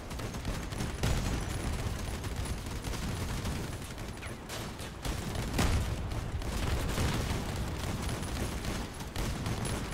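Autocannon fire in a shooter video game, a dense continuous barrage of rapid booming shots at steady loudness, with several brief gaps, and no speech.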